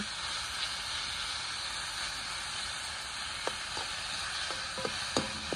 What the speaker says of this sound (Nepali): यत्तिकै दामी गरेर फ्राई गर्छु यो सब्जी